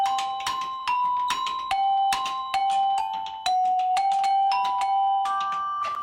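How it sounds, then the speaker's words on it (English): Struck metal bars and tubes of a carillon practice console at a Presbyterian church ring out one note after another in a steady melodic line, each bright strike sustaining clearly and alone. "we are hitting bars and tubes, rather like a xylophone"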